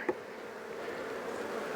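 Honey bees humming in a steady, low drone at an opened hive during a brood-frame inspection, with one brief louder buzz near the start and no talking.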